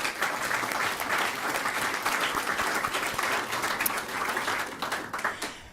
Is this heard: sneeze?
no